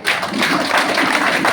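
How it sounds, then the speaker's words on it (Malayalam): An audience claps hands in a dense, loud burst of applause that runs steadily throughout, close and unbroken. "എഴുന്നേറ്റ് നിന്ന് കൈയടിക്കുക"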